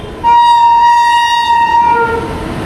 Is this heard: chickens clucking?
no